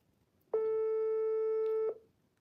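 Single steady electronic telephone tone lasting just over a second, clear and alone against a quiet background.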